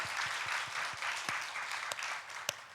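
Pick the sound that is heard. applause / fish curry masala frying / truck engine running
applause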